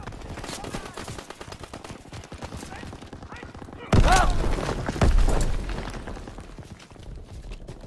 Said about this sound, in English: Open fire! Someone get on the MG!